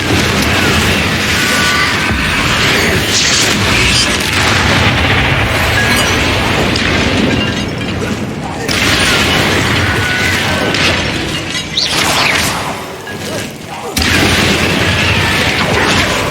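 Explosive blasting spells cast in the video game Hogwarts Legacy, loud booming bursts and crashes stacked almost continuously, with brief lulls between volleys and dense combat noise throughout.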